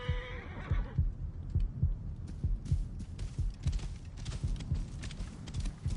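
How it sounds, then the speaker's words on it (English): Heavy, steady heartbeat effect in Assassin's Creed Origins, marking overheating in the sun: low thumping pulses repeating throughout, following a brief horse whinny at the start, with no talk. "the heartbeat that you can hear is because, believe it or not, Bayak has actually been out in the sun for too long"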